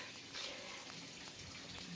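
A spray bottle mists wilted, newly planted dipladenia plants indoors, giving soft, steady hissing bursts that blend into a continuous watery spray, moderately close with no talking.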